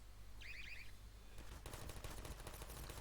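Gunfire in Garry's Mod, a rapid, evenly spaced burst of loud shots that starts suddenly after a short high alarm-like tone and carries on to the end.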